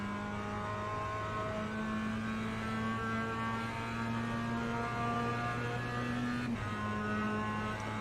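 Mazda MX5 Cup car engine in the iRacing simulator holding a steady, droning high-rev note with a harmonic whine, briefly dipping and recovering near the end, loud and continuous with no talk.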